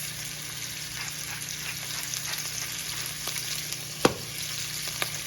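Scallops fry in olive oil in a pan, giving a steady, moderate sizzle with a faint crackle throughout and one sharp clink partway through, with no talking.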